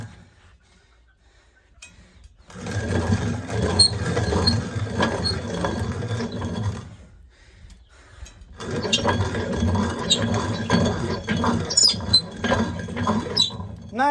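A hand-cranked corn sheller strips kernels from the cob in two long bursts of rattling, clattering mechanical grinding with a brief quiet gap between them, loud and close with no talk.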